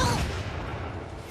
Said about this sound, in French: Depuis quand on a ajouté des feux d'artifice au spectacle?